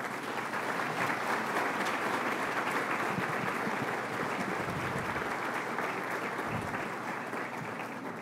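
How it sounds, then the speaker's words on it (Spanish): Sustained applause from an audience at the opening ceremony of a national legal congress, honouring the new president of the Supreme Court of Justice; dense, steady clapping fills the whole stretch at an even level with no voices over it. "pedirles por favor un reconocimiento de aplausos a nuestro nuevo presidente de la Corte Suprema de Justicia"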